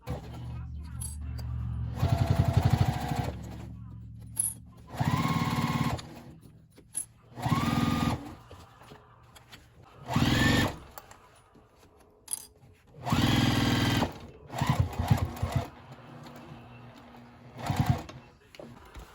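A sewing machine stitches the bottom panel seam of a fabric memory bag in several short bursts of whirring motor, separated by pauses, with a soft voice now and then between runs.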